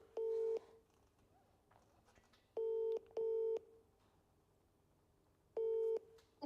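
A mobile phone call being dialed, with four separate loud two-tone keypad beeps in an irregular rhythm over a quiet background hiss.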